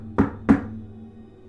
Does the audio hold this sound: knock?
yes